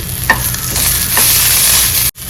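Coriander seeds and cumin sizzle and fry in a pan with oil, a steady loud crackling hiss with a few stirring scrapes, briefly cut off near the end.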